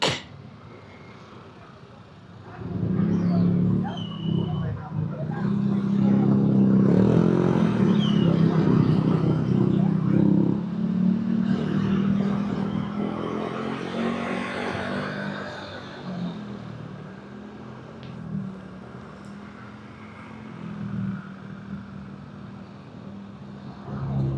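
A classic motorcycle engine revs and runs on a year-end road ride toward Tagaytay Highlands, a loud rising drone that swells after a quiet start, holds steady, then fades.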